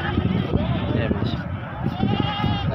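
Goats, including Rajanpuri goats, bleat repeatedly at a livestock market in a madrasa, their wavering calls close and loud over a busy murmur of people talking.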